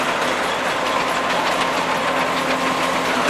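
An old heavy haulage tractor at a steam fair runs steadily, a loud, continuous low engine rumble with a rhythmic mechanical chatter and no talk.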